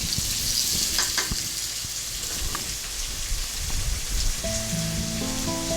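Sliced onion sizzles and crackles in a pan for pepper duck, a busy rain-like frying hiss with a few stirring knocks and a faint tonal hum near the end.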